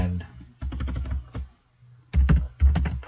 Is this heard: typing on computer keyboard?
yes